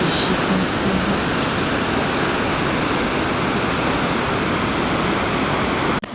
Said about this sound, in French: Et en gros t'as 2 étages de cascade qui vont se jeter dans un canyon.